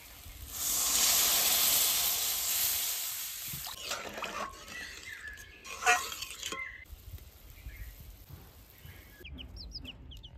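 Water poured into a pan of fried masala with salt, turmeric and red chili powder for a Bengali fish head curry bursts into a loud hiss that fades into softer bubbling, with a few utensil clinks.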